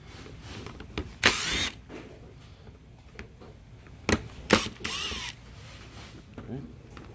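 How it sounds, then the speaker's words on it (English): Screws are backed out of the magazine housing of an NR1890DR nailer with a small power driver, in several short bursts of whirring among soft handling clatter, with someone talking throughout. "go ahead and take out the three screws across the top"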